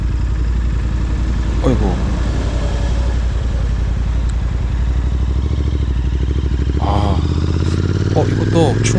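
A Royal Enfield motorcycle, Classic 350 or Interceptor 650 with a replaced exhaust, idles and burbles steadily up close while making a slow U-turn, with a brief spoken exclamation over the engine.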